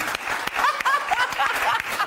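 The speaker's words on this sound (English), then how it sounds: "round of applause for that one scientific fact" Scattered clapping from a TV talk-show studio audience with some cheering, a short burst of applause that wavers in loudness.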